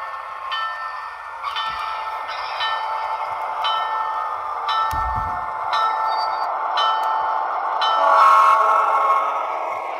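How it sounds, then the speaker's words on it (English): A small model train rumbles steadily along the track with a rhythmic clicking of wheels, a brief low thump midway, and no talking. "Arriving, train number 345, a ton of boxcars."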